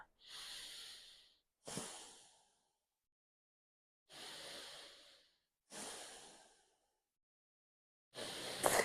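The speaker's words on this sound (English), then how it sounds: "Breathe here. 3 deep breaths." Five deep breaths taken during a yoga flow, each a long airy inhale or exhale of a second or so with quiet pauses between, close and fairly soft, no talking.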